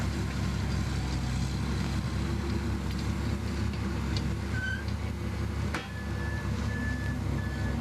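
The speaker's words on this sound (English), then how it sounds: "that's very much a broadacre tractor" A broadacre crawler tractor pulling a ten-furrow plough works at a British national ploughing championship, a steady loud engine drone close by with a few faint beeps over it and no talk.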